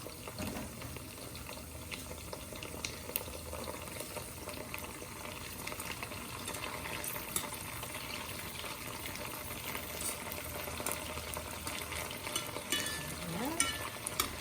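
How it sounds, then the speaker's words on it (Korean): Shrimp fry in hot olive oil for gambas al ajillo with a continuous crackling sizzle, occasionally stirred, close and fairly loud throughout with no talking. "지글지글 맛있는 소리가 들리네요."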